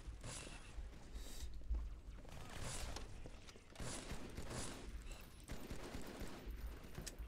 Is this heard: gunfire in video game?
yes